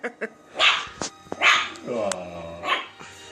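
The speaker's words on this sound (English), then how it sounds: "You don't want Lola to bark" Puppy barking in short yips and barks at close range, a few separate bursts with whimpery tones, mixed with people talking softly nearby.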